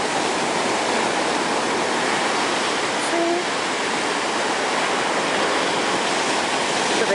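Ocean waves surge through a rocky archway at Zipolite beach, a steady roaring wash of broadband water noise filling the whole stretch, close and loud, with no voices.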